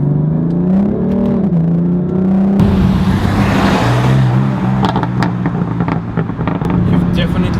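A BMW M4 LCI Competition revs hard to about 5,000 rpm in second gear, rising and falling in pitch, then a rush of noise and crackling exhaust pops follow, loud and close.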